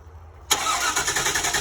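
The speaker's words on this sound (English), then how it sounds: "we're going to have my lovely assistant crank the car" A car engine is cranked and fires up: near silence, then at about half a second the engine catches abruptly and settles into a loud, steady running rumble with a regular pulsing beat.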